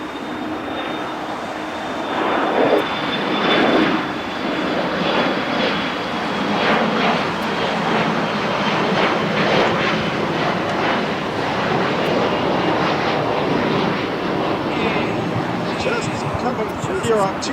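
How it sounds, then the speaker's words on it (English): A Delta Airlines Airbus arriving from Paris touches down on runway 25 left at LAX, its engines a loud, broad, sustained roar with a thin whine as it rolls out, and someone talks over it. "Here on 25 left, just having touched down right now, is the arrival of Delta Airlines Flight 291 from Paris at CBG on an Airbus"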